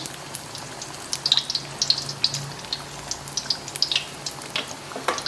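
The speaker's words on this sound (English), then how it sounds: "So these are now in the oil." Camembert pieces frying in hot oil in a pan, giving a steady close crackle of small pops and spits with no talking.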